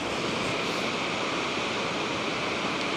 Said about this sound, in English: The water plunges about 60 feet into a pool that is 10 feet deep and 150 feet wide.